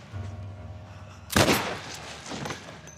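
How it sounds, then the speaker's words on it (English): A single sharp gunshot bursts out in The Last of Us Part I, followed by a fainter second shot and brief echoes over a quiet, humming background. "Gunshots!"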